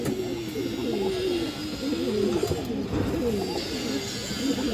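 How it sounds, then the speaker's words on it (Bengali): A khaki Bagha pigeon coos close by in repeated low, throaty rolling phrases, a steady series of undulating calls with soft background noise and no talk. "এটা বাঘা খাকি কবুতর"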